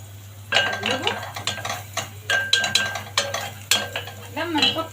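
A spoon stirs chopped onions in a metal cooking pot on the stove, clinking and scraping in uneven strokes over a low steady hum, close by.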